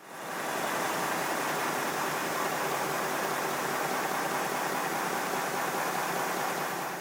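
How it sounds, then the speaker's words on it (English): A steady, dense hissing roar of a Simplex steam locomotive engine exhaust fitted with a blast nozzle, continuous and unchanging throughout, close and fairly loud. "test the engine to see what difference it makes by it having a blast nozzle"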